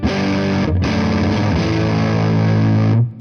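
Electric guitar strumming open cowboy chords on the neck pickup through a fuzz pedal, thick and saturated, loud and sustained with a brief break near the start and no talking.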